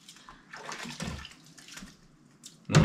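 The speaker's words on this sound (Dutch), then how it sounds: "Dus ik neem jullie mee naar de afwas toe." Glasses are washed in a kitchen sink under running water, with splashing and sloshing surges and a louder gush at the end, close by and with no talk.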